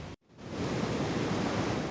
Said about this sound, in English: the river is running fast, it's running high, and it is very cold